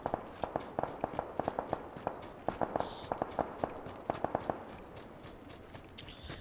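Distant gunshots in PlayerUnknown's Battlegrounds crack in irregular bursts, sharp and fairly faint, some in quick clusters, over a low background hum.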